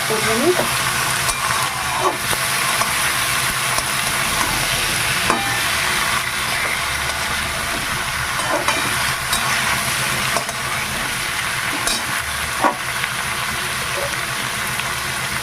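Oil fries steadily in a pan, a continuous close hiss and crackle with occasional stirring clicks throughout, no voices.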